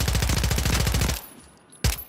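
Rapid automatic gunfire rattles loudly and close in Call of Duty Modern Warfare Remastered, a dense burst lasting about a second before cutting off, followed after a short lull by one more sharp shot.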